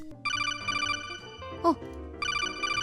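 A telephone rings in repeated electronic trilling bursts, a pause, then another burst, fairly quiet in a room before being answered, with a brief voice sound in the gap.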